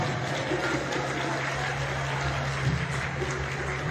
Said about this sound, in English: Come on, give it up for the drums.